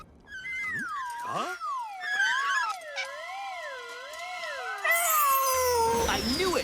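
Cartoon cat from the Smurfs meowing and caterwauling in a series of loud, wavering, siren-like wails that rise and fall, ending in a burst of noisy clatter.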